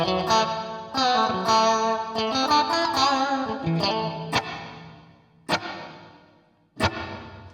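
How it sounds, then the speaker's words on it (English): Electric guitar played through a Boss Katana 50 amp with heavy reverb and effects, sustained chords and single notes ringing out with a washy, echoing tail, plucked notes standing out late. "I like it in my reverb"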